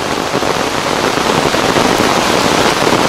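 Steady rain pours down over a garden plot, a dense, loud, close hiss of drops with no letup and no voices.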